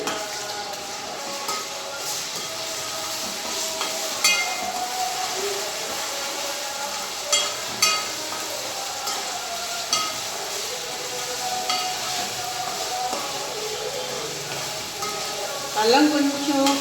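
Ginger, garlic and garam masala paste frying in a pan for green rice, a steady sizzle with a few clinks of stirring, close and moderately loud throughout.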